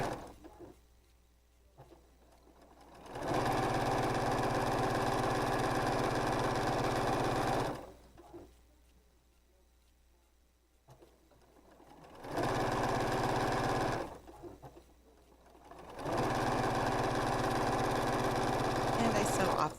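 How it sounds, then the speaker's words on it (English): A sewing machine stitches pinked fabric edges for quilt blocks in three long runs of steady whirring, separated by quiet pauses while the fabric is repositioned. "When sewing pinked edges, I sew inside the little triangles"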